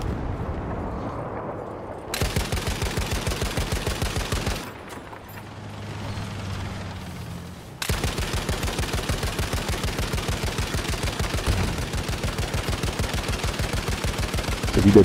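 Sustained automatic gunfire in Battlefield 5 on the Pacific map, long rapid strings of close shots broken by short pauses, loud and mechanical.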